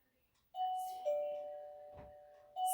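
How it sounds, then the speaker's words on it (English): An electronic doorbell rings in a house, two sustained chime tones followed by the start of a third, clear and fairly near with no talking. "when I rang the actual doorbell"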